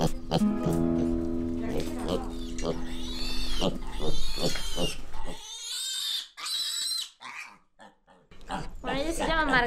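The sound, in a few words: pet pig grunting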